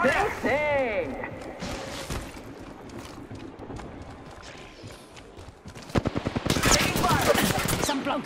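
Video game gunfire in an Apex Legends-style shooter, rapid automatic bursts rattling out near the end, loud and close, following earlier scattered shots under a busy mix of game effects and voices.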